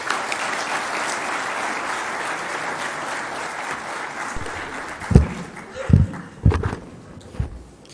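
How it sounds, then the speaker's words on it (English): Sustained audience applause at an aerospace and security conference session, thanking the speakers and participants. It is dense and steady for about five seconds, then thins out into a few louder, nearer thumps and bumps. "please join me in a big hand of applause for"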